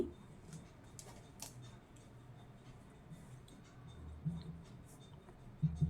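Writing on a board or paper, soft scratching and tapping strokes scattered unevenly over a quiet room hum, with a few louder knocks toward the end and no talking.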